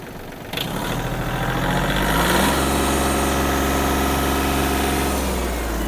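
A small Yanmar F-210 or Kubota T-220 compact tractor diesel engine, 21 horsepower, idling, then revving up to a higher steady speed and holding there, loud and close.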